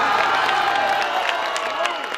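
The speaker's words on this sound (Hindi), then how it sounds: "जोरदार ताली मिस्टर ज्योति प्रकाश" A crowd at a Sambalpuri orchestra stage show claps and cheers loudly, a brief burst of applause mixed with shouts and whoops that tapers slightly toward the end.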